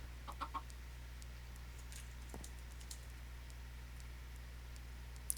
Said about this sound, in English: Because I should probably find those chickens.